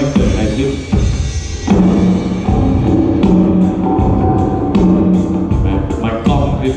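Drum hits with added reverb ring out in a steady rhythm, each beat leaving a washy, roomy tail over a sustained low tone.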